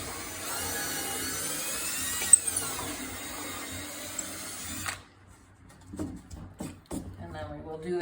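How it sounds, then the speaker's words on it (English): A power drill whines steadily while boring through a cedar picket for a trellis, then stops, and a voice follows. "Drilling down through all that nice and straight."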